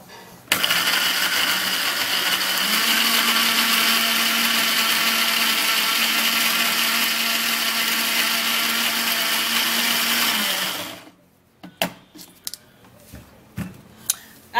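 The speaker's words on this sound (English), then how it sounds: "and then I would have to blend" Loud, steady whir of a kitchen blender chopping onion, running continuously for about ten seconds before shutting off, followed by a few clunks and handling knocks.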